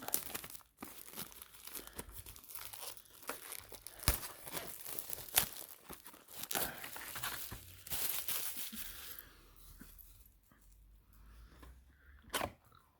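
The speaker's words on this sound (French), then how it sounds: "j'ai pris le display, je le déballe et on l'ouvre ensemble" Plastic wrap crinkles and tears close up as a Lorcana trading card booster display box is unwrapped, with irregular crackles, rips and a few sharp snaps, no speech.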